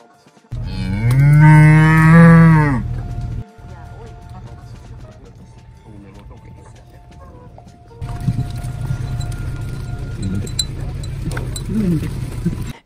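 A cow lets out one long, loud moo near a mountain road with farm animals, followed by quieter outdoor ambience and a stretch of rustling noise.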